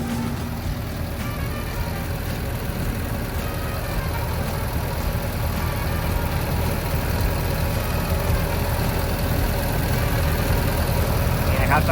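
A steady, low diesel engine rumble of a 12-ton Kobelco SK135SR-2 excavator idling continuously up close, with a constant mechanical drone throughout.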